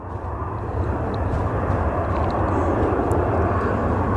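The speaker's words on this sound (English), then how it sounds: "As one leaves, one takes off. One leave, one takes off. As one leaves, one lands. Another EasyJet." EasyJet airliner taking off at Edinburgh Airport, a loud steady jet engine roar building slightly and holding at close range, with no talk.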